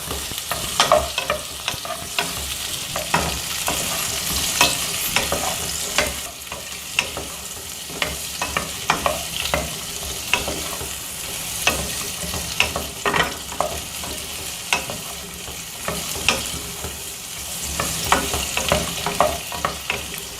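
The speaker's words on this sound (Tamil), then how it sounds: "அப்புறம் பூண்டு பற்களையும் போட்டுக்கலாங்க. பச்சை மிளகா போட்டுக்கலாம், சிகப்பு மிளகா, கறிவேப்பிலை எல்லாத்தையும் போட்டு வதக்கலாம்." Garlic cloves, green and red chillies and curry leaves sauté in a pan for chow chow chutney, with steady sizzling and repeated scraping, clicking stirs throughout, close and fairly loud, no voices.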